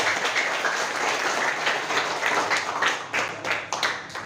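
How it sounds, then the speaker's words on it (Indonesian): A classroom of students claps for a classmate, a steady scattered round of hand claps that thins toward the end, with a few louder individual claps near the close. "Oke, tepuk tangan untuk dia."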